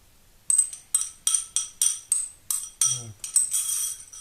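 Rhythmic scraping clinks of a spoon against a bowl while mixing salad, repeated about eight times at a steady pace, close and fairly crisp.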